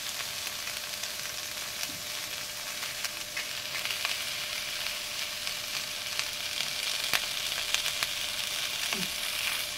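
Cauliflower stalks fry with sugar and salt in a pan, giving a steady, close sizzle with faint scrapes of stirring and no voices.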